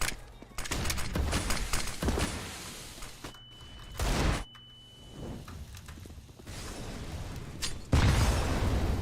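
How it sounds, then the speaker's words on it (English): A flashbang grenade detonates in the video game CS:GO, a sharp loud burst amid game noise and gunfire bursts, with a player talking around it. "Flashbang."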